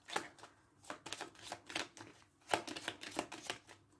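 Tarot cards being shuffled by hand, soft quiet riffles and slaps in an irregular rhythm, close and faint with no talk.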